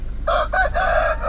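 A chicken crows loudly and close by at a rural nature house in Thailand, one short clucking crow in a few broken bursts.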